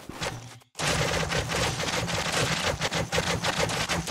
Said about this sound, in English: Fire a volley down on them